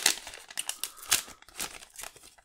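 Close, crisp crinkling and tearing of a thin plastic WWE sticker packet being opened, in quick irregular rustles.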